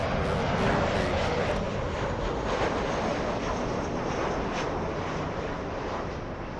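A jet aircraft taking off from runway 24 left at LAX, a broad, continuous roar that holds steady and then eases slightly, heard from outside with wind buffeting the microphone.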